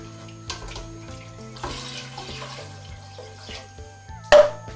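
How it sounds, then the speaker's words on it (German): One liter of broth goes into a pot of bacon-onion soup, a close pour with splashing and sizzling bursts, ending in a sharp, loud splash near the end. "Jetzt geben wir die Brühe hinzu."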